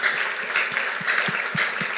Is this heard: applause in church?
yes